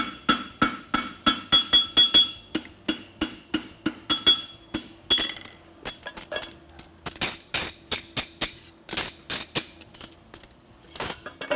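Rapid rhythmic blacksmith hammer blows ring on metal while forging a horseshoe at a championship, a bright clanging series with brief pauses between bursts, close and fairly loud.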